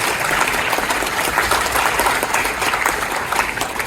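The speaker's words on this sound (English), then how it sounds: "let's have another round of applause for our readers" An audience at a literary prize awards ceremony applauds the readers, a dense steady wash of many hands clapping that stays loud and even throughout with no voices on top.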